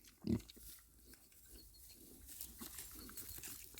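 A Mangalica pig gives a single loud grunt up close, then quieter snuffling and rustling continue over a noisy background.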